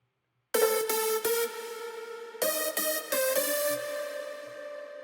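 A bright progressive house lead synth made in FL Studio, played dry without sidechain compression: sustained, harmonically rich chords with sharp rhythmic stabs that hold a steady, full level throughout, with no voices.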